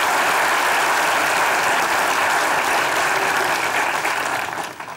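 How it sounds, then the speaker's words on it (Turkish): A studio audience at a comedy sketch show gives the actors loud, dense applause that holds steady and then begins to fade at the very end. "oyunculuklara bir alkış alalım ve ekstra bir şey yapalım"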